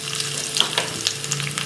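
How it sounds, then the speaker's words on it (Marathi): Garlic and cumin sizzle steadily in hot ghee in a kadhai for a tempering, a continuous crackling fry with small spits and pops throughout, close and fairly loud with no talking. "तुपाची फोडणी करते."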